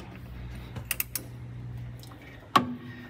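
A ratchet tightens the positive battery terminal on a classic car, with a few quick clicking ratchet strokes up close followed by a sharp metallic clank near the end.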